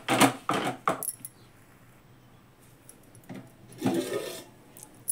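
A metal lid set down on a cooking pot on a low-flame stove while rice-flour dough cooks: a few sharp clinking knocks at the start, a quiet gap, then another rattling clatter of metal, close and fairly loud.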